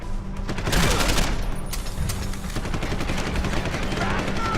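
Blind-fire gunfire in the video game Deus Ex: Human Revolution, a loud, dense, continuous barrage of rapid shots and impacts that persists without a break.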